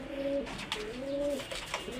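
Pigeons cooing in a loft, two soft drawn-out coos heard close by over faint background noise, without any talk.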